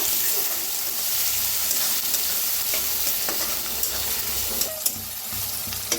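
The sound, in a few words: frying onion, tomato and coriander in pan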